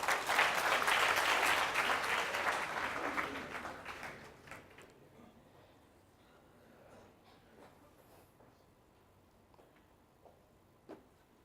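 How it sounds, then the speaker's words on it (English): Audience at a TEDx talk applauds loudly in a dense, sustained wash of clapping that fades away after about four seconds, leaving a quiet room with a few faint scattered sounds. "A huge round of applause for her."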